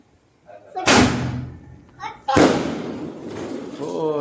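Two small firecrackers go off at a child's birthday celebration at night, each a sharp bang with a ringing tail, close by, and voices can be heard around them.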